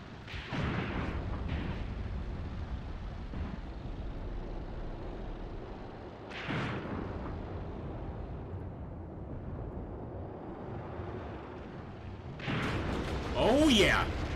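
In a WW2 battle simulation, a heavy gun fires loud booming shots, with a few blasts spaced apart over rumbling battlefield noise.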